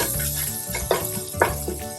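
Fresh garlic, thyme and dill stirred in a hot pan, a continuous close sizzle broken by a few scraping stirs of a utensil, no voices.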